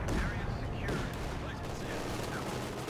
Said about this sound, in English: the MG42 shoots incendiary rounds at it